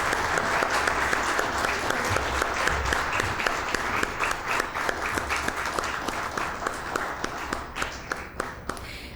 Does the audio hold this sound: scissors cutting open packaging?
no